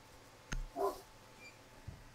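A dog somewhere in the background gives a couple of faint, brief barks or yips, quiet and distant, separated by near silence.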